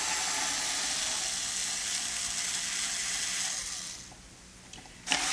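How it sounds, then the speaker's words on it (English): A screw gun backs the four bolts out of the back plate of a Fender Stratocaster guitar, a steady whirring drone for several seconds that stops abruptly and ends with a short click. "With the screw gun, take the four bolts out of the back plate."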